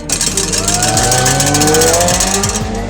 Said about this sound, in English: It's another 1300cc motorcycle engine, so it'll be revving to the high heavens.